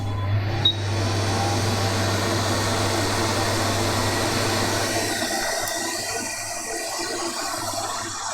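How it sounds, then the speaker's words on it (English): Hot air blowing steadily onto an iPhone 8 logic board during a repair, a continuous close whooshing hiss with a low motor hum that eases slightly toward the end. "And then it's time to heat up the board."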